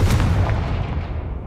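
Confringo fire-blast spell in Hogwarts Legacy going off as a single heavy, booming explosion that hits close and loud, then rumbles away over about a second and a half.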